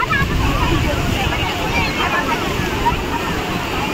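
Sea waves wash ashore at Juhu beach in a continuous rushing surge, with wind buffeting the microphone and faint crowd babble.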